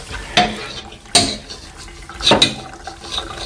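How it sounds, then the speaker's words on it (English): A carbon steel wok being washed with dish soap and a cloth gives brief scrubbing swishes and wet rubbing, with three louder bursts of friction and splashing against the metal, close and without talk. "I'm going to put some dish soap in there. And I'm going to use a cloth on it this time instead of steel wool"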